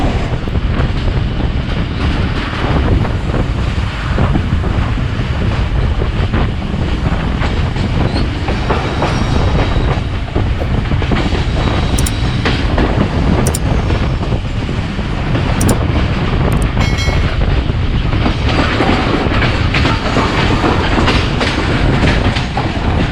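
Pakistani passenger train, the 25UP Bahauddin Zakaria Express, running on rails on the Karachi–Multan route, with a steady loud rumble and rhythmic clickety-clack of wheels throughout, plus brief high squeals, and no talk.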